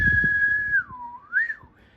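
A person whistles a clear, sliding melodic tune, starting steady then dipping and rising again, close and fairly loud, with some low rumbling noise underneath at first.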